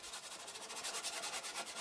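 The front fender of a Toyota Avensis is sanded during body repair, a close, steady abrasive rubbing with a quick back-and-forth rhythm and no talk.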